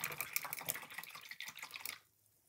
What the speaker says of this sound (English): I'm gonna rinse out my brush